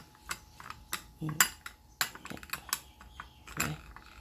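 A metal spoon clinks and scrapes against a cup or bowl while pressing Thai tea leaves, making a quick run of sharp, irregular taps and scrapes at close range, with no talking.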